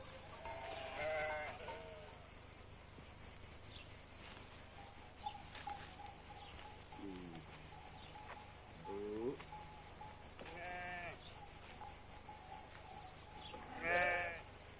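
Sheep bleating in a rural setting, several wavering calls scattered over a long stretch, some closer and louder, others fainter, over a steady low background hiss.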